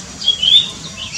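Birds in a home aviary let out a few short, high chirps and squeaky calls over a quiet background, the brief bursts close and fairly loud.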